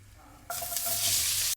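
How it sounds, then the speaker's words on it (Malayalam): Onions dropped into a hot pan with paneer for stir-fried udon noodles, a sudden loud sizzle bursting in after a quiet start and holding strong until cut off. "ഇനി ഇതിൻ്റെ അകത്തേക്ക് നമ്മൾ ഉള്ളി ഇട്ട് കൊടുക്കുക."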